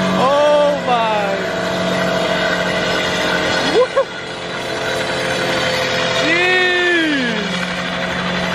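A Subaru engine holds a steady high rev while the tires are roasted, with a loud continuous drone and rising and falling pitch swings, close by.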